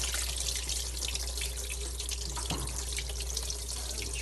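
Water drains from a cooking pot into a kitchen sink, a steady close rushing splash that runs continuously without pause.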